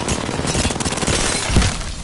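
Loud, rapid gunshots in the Apex Legends firing range, a quick volley of sharp cracks fired at a training dummy, close up with no speech.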